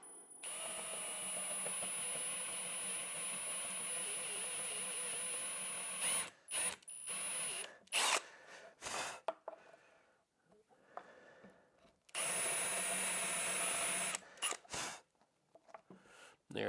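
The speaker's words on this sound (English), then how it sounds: "So the first thing I'm going to do is drill a hole for the head to fit into." A power drill bores a recessed hole for a bolt head in a wooden bandsaw jig. It runs in long steady whines broken by short bursts and pauses.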